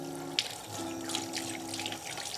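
Hard-boiled eggs are rinsed under a running kitchen tap, giving a steady close stream of water with a brief splash near the start.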